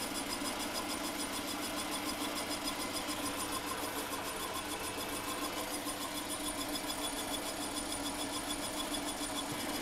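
A Holzmann ED 750 FDQ metal lathe turning stainless steel under power feed gives a steady, dense mechanical whir and hum with a faint rhythmic ticking, unbroken and moderately loud throughout.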